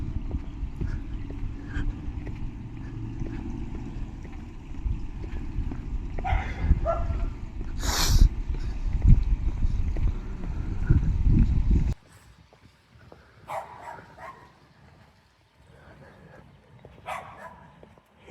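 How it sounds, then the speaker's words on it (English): Dogs barking outdoors on a cloudy afternoon, recorded on a phone camera, scattered sharp barks mixed with other ambient noise and a brief voice, dropping to quieter background partway through. "hear the sounds from the dogs"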